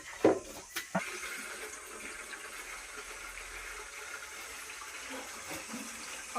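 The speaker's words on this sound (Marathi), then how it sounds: "पाणी आलं स्वतः आम्ही पाणी भरतोय" Tap water gushing into a container as it is filled at a village home, a steady rushing flow after a few clunks at the start.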